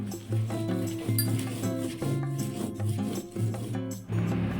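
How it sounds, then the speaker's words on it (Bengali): Fried drumstick leaves being ground into a paste make rhythmic rubbing and rasping strokes, moderately close and repeated steadily throughout. "তো এখন আমি এগুলা বেটে নিব।"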